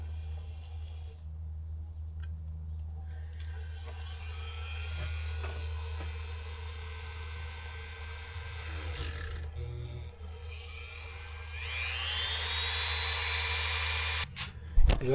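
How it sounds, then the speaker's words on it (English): A Dremel rotary tool whines steadily while enlarging a hole in an off-road lamp from a Nissan Xterra, its pitch shifting as it bites, close and continuous with a brief rattle at the end. "I'm gonna take my Dremel and see if I can make this a little bit bigger."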